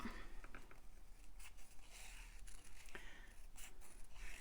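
Scissors snipping and fussy cutting around small paper scraps for journal ephemera, quick faint repeated snips with light paper rustle, close and quiet, no talk.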